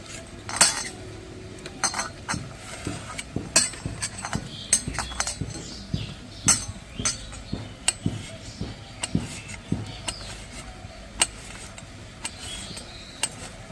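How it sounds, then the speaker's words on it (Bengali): A knife cuts orange peel, its white pith removed, into thin strips on a board, sounding as a run of sharp, close taps and clicks at an uneven rhythm, with no voices. "এবারে আমি এটা একদম সরু সরু করে কেটে নেবো"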